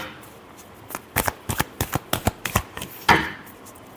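Tarot cards riffled in a rapid shuffle nearby, a run of about a dozen crisp snapping flicks ending in a louder final riffle, with no talking over it.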